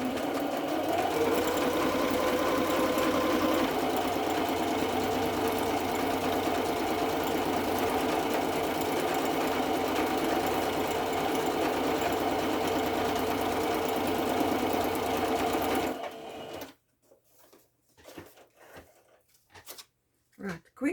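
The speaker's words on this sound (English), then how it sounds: "I will switch on quickly my sewing machine, and I will stitch it right around here" A domestic sewing machine stitches around the edge of a vintage-style paper envelope, running steadily and loudly for about sixteen seconds before stopping, followed by a few quieter handling knocks.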